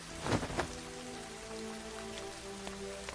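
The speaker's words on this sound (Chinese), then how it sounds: "你千万不能淋雨" Rain falls with soft pattering drops, starting with a couple of louder splashes and then settling into a gentle, even patter, with no voices.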